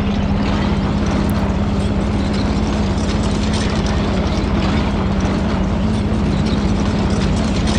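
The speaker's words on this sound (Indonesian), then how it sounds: "sekarang Dude akan coba menerbangkan pesawat ini ya" Airplane engine in a PC flying game, a steady droning hum with a strong low tone holding evenly throughout, loud and continuous with no talk over it.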